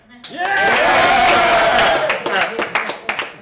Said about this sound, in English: By applause, how many people haven't applauded yet?